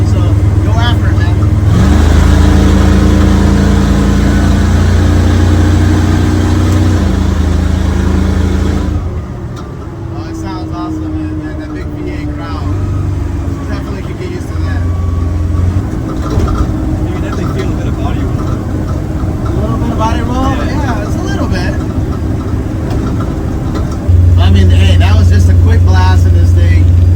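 A Ford Ranger off-road truck makes a quick pull, its engine note droning and rising in pitch as the revs build, loud and close. A dip and rough, broken stretch in the middle give way to a strong surge again near the end.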